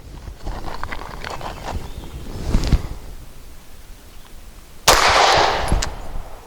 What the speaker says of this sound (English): Then I'm going to try, as my confidence grows, shooting some doubles, starting with a double action first shot